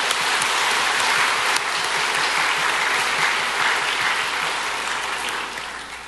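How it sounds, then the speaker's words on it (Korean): A church congregation at a Parents' Day worship service applauds one another in a dense, steady round of clapping lasting about six seconds, easing slightly toward the end. "우리 서로에게 한번 박수하겠습니다."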